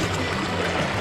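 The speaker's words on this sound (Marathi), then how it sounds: "हे बघा झुळझुळणारं पाणी" Water flowing and gurgling in a stream where clothes are washed and people bathe, a close, continuous rushing babble with a low rumbling undertone and no voices.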